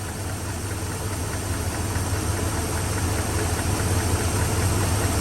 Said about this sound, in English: Sound like it's got a lifter tick